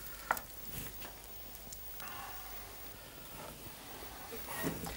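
Slices of pain perdu (French toast) brown in a frying pan, giving a faint, soft sizzle with scattered small crackles, while people talk quietly nearby.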